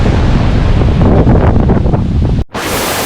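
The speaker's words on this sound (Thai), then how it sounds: "ลมครับ ลมแรง แรงเหมือนพายุเลย" Strong stormy wind roars during light rain, a loud continuous broadband rush buffeting the microphone, cut off abruptly near the end before resuming.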